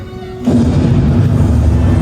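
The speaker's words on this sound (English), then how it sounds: "And there you have it. Explosion!" Sudden loud boom of an explosion in the Professor Layton video game, hitting after a quiet moment and followed by a sustained heavy rumble.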